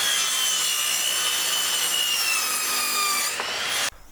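Hand sawing through wood cut for a DIY motorcycle garage frame: a steady, close rasping stroke that runs for several seconds, then stops abruptly.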